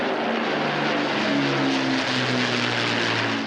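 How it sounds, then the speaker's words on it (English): Britain's last Lancaster bomber, a four-engine propeller aircraft, flies over Derwent Reservoir in Derbyshire with a loud, steady, droning roar. Its engine notes waver and beat slightly against each other, with no talk over the sound. "waiting to see and hear Britain's last Lancaster bomber"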